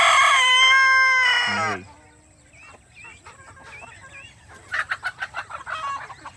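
Chickens on a farm: a loud crow-like call opens, followed by quieter scattered clucks and chirps, then a rapid burst of close clucking near the end, over low background noise.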